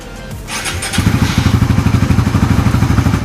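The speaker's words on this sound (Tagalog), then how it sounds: "start natin yung makina para mag-circulate yung engine oil dun sa loob ng crankcase" A Suzuki Raider 150 motorcycle engine cranks and catches, then settles into a loud, steady, rhythmic idle that chugs on without any talking.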